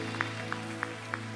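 Four sharp, evenly spaced hand claps ring out at a church service, set against a sustained, droning musical tone.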